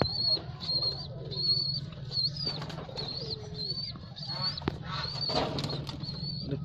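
Pigeons at a loft in Canning, West Bengal, beating their wings in flight, with repeated high chirps and soft coos over a steady low hum, close and continuous throughout.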